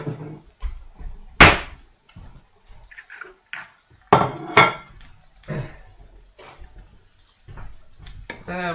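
A utensil stirs eggs with butter in a pan, making irregular close scrapes and clinks of metal against the pan in short bursts with quiet gaps between them.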